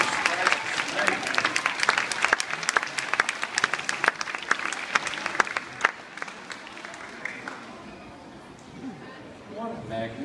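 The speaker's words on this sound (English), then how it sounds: "Another big clap." A school assembly audience of children claps in a dense burst of applause that tapers off toward the end, with a voice heard faintly near the close.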